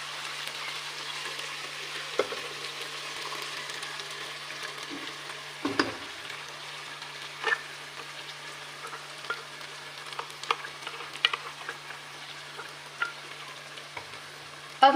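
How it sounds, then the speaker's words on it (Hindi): Potato and eggplant sabzi frying in ghee with freshly ground masala, a soft, continuous hissing sizzle with scattered light clinks and scrapes of stirring throughout, fairly quiet and without speech. "अब हम इसको करेंगे फ्राई।"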